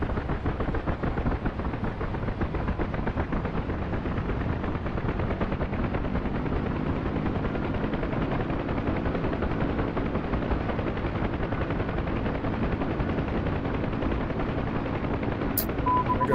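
A helicopter engine in the Vietnam-era game Hell Let Loose throttles up, a steady, dense rotor chop that thrums continuously and evenly for the whole stretch, with a brief high beep near the end.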